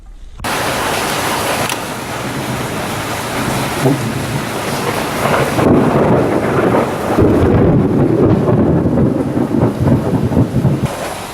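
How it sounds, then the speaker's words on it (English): A steady roar of heavy monsoon rain in Vietnam with deep rolling thunder building louder toward the end, broadband and continuous throughout. "The wet monsoon season brought thunder, lightning and heavy rain."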